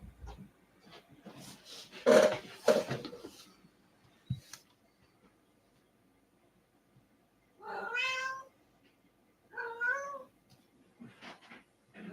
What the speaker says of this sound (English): Apparently my cats are fighting in the window.